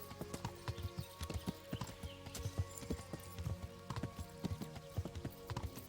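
Horse hooves clip-clop steadily in the medieval game Kingdom Come: Deliverance, a brisk, rhythmic trot of close, fairly loud hoofbeats with an occasional whinny, heard alone without talk.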